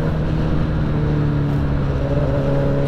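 A motorcycle exhaust rumbles steadily up close in a continuous, low droning idle with slight rises in revs and no clear pops.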